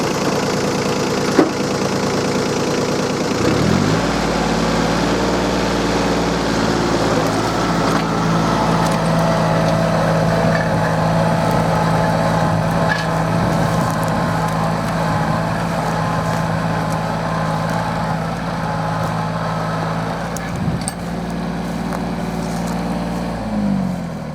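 A tractor engine hauls a WIRAX 2x18 plough along a furrow, a loud steady diesel drone with a deep rumble that settles after a brief start, running alone with no talk.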